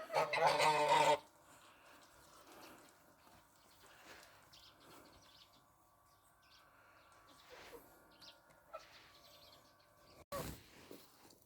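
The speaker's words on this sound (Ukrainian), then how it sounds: "Бідні мої гусі." A loud burst of goose honking opens, followed by quieter scattered calls and rustling at a distance, with another short squawk near the end.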